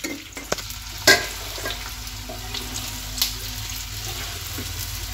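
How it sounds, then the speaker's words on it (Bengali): Soybean chunks lightly frying in a karai for a chili soybean dish, a steady low sizzle with a few sharp clinks of a utensil against the pan. "এবার কড়ার মধ্যে এগুলোকে দিয়ে ভিজে নেব, জাস্ট হালকা করে ভেজে তুলে নেওয়া আর কি"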